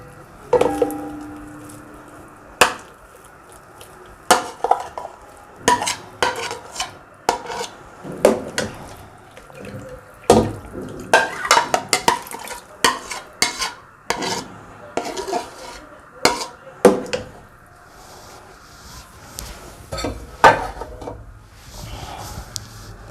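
Metal pot and utensils clank and clink repeatedly and irregularly as milk and blended rice go into a cooking pot for kheer, with sharp, close knocks spread over the whole stretch and no voices.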